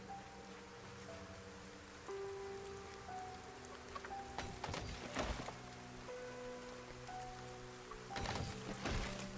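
Rain in the video game Project Zomboid makes a faint, steady patter and hiss beneath soft sustained tones, with a few louder bursts rising briefly out of the quiet wash.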